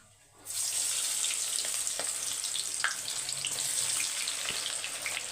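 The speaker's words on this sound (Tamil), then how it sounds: "மில் மேக்கருக்கு எண்ணெய் ஊற்றி வச்சுருக்கேன் நல்லா ஹீட் ஆகிட்டுருக்கோம் ஒரு பக்கம் போட்டுடலாம்" Soy meal maker chunks hit hot oil and break into a steady, bright sizzle that holds evenly at close range, with a few faint pops and clinks and no talking.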